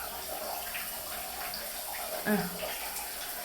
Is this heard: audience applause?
no